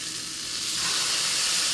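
Butter sizzles and fries in a hot pan while salmon and broccolini are cooked, a steady close hiss that grows slightly louder and more intense over a couple of seconds, with no talking.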